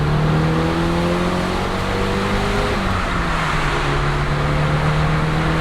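A Nissan 180SX with an SR20 engine drones loudly and steadily from inside the car, its exhaust note rising then dropping as the revs shift, with road noise underneath, in Japan.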